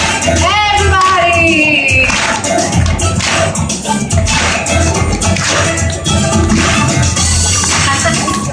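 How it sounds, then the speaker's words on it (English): A crowd claps in time along with a performance by Honda's Asimo humanoid robot at a live demonstration, steady rhythmic applause mixed with loud music and voices throughout. "Let's see if we can clap along,"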